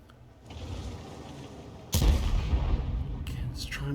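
Tank cannon shots boom in a tank battle video game, a deep heavy blast arriving midway over rumbling engine noise, followed by a sharper crack and lingering battlefield rumble.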